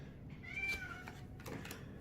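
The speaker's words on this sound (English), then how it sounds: "that cat attacks our children, scratches the dog, has scratched our other cat" A cat meows in short harmonic calls indoors, with a second fainter cry near the end, close and fairly clear over low room noise.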